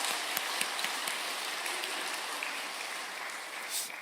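A church congregation applauding at a Sunday service ordination ceremony, a dense, continuous patter of many hands clapping at a steady level throughout.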